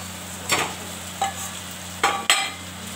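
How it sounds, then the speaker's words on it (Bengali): Pieces of small fish are dropped into a curry frying in a pan, several short sizzling splashes and stirring scrapes over a steady background hum. "এবার মাছগুলো দিয়ে দিচ্ছি"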